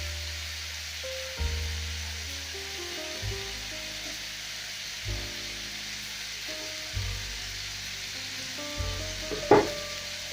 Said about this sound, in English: Then I'm also going to go in with my half onion rings.